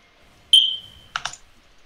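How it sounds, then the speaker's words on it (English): Fire alarm low-battery chirp: one sharp, high electronic beep followed by a couple of short clicks, alone in a quiet room. "change the battery in your fire alarm"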